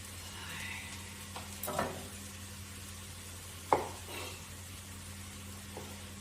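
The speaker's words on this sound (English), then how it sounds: "really like the tomatoes getting fried up a little bit" Tomatoes frying in a pan while making vegetable soup, a faint steady sizzle with a few sharp clatters and stirring knocks, no voices.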